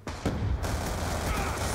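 Rapid burst of gunfire from the Chicom rifle in Call of Duty: Black Ops 2, a dense, loud volley starting abruptly and continuing for under two seconds amid game noise.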